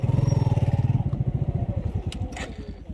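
A motorcycle idling with a steady pulsing putter that slows and loosens as it is parked beside a hill, close by, with a couple of brief clicks near the end.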